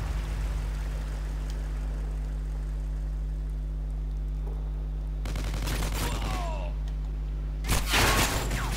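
Gunfire in the multiplayer shooter Call of Duty: Ghosts: after a long stretch of steady engine-like hum, two sharp bursts of shots crack out, the second louder and closer.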